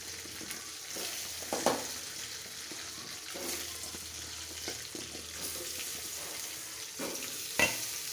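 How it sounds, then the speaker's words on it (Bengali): Sliced pointed gourd (potol) fries in a pan, giving a steady low sizzle with scattered stirring scrapes and a few sharper clinks of a utensil against the pan. "এখন ভেজে নিব সে পটলগুলা।"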